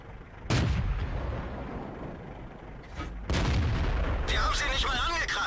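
A Pz. Sfl. IVc self-propelled gun fires heavy artillery rounds in the World of Tanks game. Two loud, booming shots ring out a few seconds apart, each followed by rumbling battle noise.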